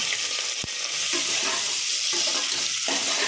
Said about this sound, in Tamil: வெங்காயம் நல்லா வதங்க வரைக்கும் நல்லா இப்படியே கிண்டி விட்டோன்னா சீக்கிரம் வதங்கிடும்.